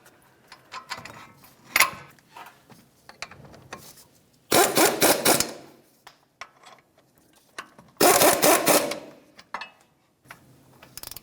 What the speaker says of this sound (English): Let's go ahead and start in both of our mounting bolts.